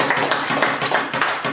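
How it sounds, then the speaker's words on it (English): A small quiz-night audience claps briefly, a quick burst of overlapping hand claps in an uneven rhythm lasting under two seconds. "Give him a round of applause."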